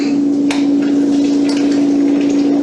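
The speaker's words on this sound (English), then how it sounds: "A little bit of sizzle, that's what you want." An egg frying in a pan gives a steady, fairly loud sizzle, continuous and even with a faint tap or two, no talk over it.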